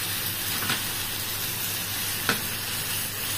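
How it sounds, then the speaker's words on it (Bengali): Ginger, garlic, onion and green chili paste frying in a pan, a steady soft sizzle with a couple of brief stirring scrapes, heard alone with no talk. "বাটা দিয়ে এটা আমরা একটু কষিয়ে নেব।"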